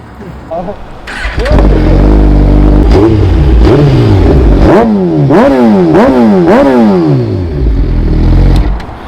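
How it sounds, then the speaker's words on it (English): A sport motorcycle engine starts and is revved in several sharp, loud blips, each rising and falling, over a steady idle, with a voice talking near the start. "Just wanted to rev it a little quick for the guys watching the videos"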